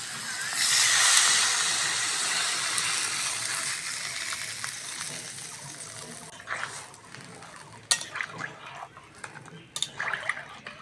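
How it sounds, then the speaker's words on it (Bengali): Water poured into a hot pan for a sour raw-mango curry with small fish gives a loud, steady steaming hiss that slowly fades, followed by scattered clinks and knocks of utensils. "এবার বন্ধুরা জল দিয়ে দেবো।"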